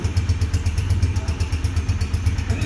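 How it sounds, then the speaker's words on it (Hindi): A Honda 125 self-start motorcycle engine runs steadily at idle, close up, with a low rhythmic thumping pulse and a faint mechanical clatter, no voices. "ये बाइक जो आपके सामने है सेल्फ स्टार्टर वाली, इसका साउंड टेस्ट करने जा रहा हूँ।"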